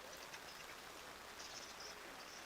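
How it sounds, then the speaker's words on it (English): Torrential rain pours down during an outdoor flag football game, a dense, steady hiss of water with no break, heard faintly without talk. "the rain is a torrential downpour"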